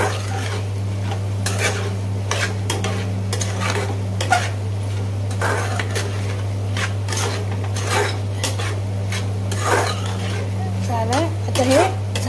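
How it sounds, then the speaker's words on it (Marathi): Chicken liver masala is stirred in a pan, a spoon scraping and clinking against metal in an irregular rhythm over a low sizzle and a steady background hum. "मसाला टाकला आहे ह्याच्यामध्ये आणि आता हे चांगल्या प्रकारे मी परतते"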